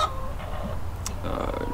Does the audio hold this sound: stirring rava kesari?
no